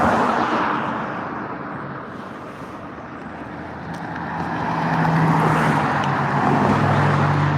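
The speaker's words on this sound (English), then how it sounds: "This is a high traffic area. Highway 52 alternate" Steady road traffic streams past on eastbound Highway 52 Alternate at Walnut Avenue, a broad continuous roar of cars that swells and eases, with wind buffeting the microphone and no voices.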